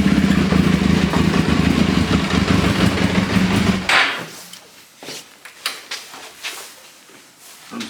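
A carbureted 1996 motorcycle engine runs loudly and steadily for about four seconds, then cuts off, leaving scattered clunks and light handling noises.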